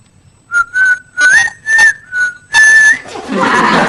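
A person whistles a short run of loud, clear, close notes in uneven bursts, some sliding in pitch, followed by a breathy rush of air.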